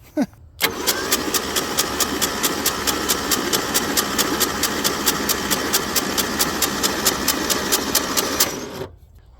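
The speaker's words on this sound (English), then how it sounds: "but the starter sounds so clean" The starter cranks a Ford Mustang engine that has sat unused for 32 years, spinning with a fast, even, pulsing chug for about eight seconds before it cuts off, loud and close.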